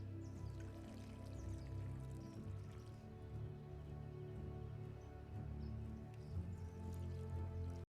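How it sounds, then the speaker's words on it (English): Water is poured onto plants in a Star Wars Andor scene, with soft drips and a gentle trickle sitting quietly over a low, steady background hum. "Watering the plants before he leaves."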